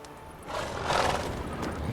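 Cart horse in The Witcher 3 gives a loud whinny over the clip-clop of hooves, the neigh swelling in the middle of a short burst with no speech.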